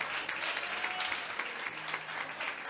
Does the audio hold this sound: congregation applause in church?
yes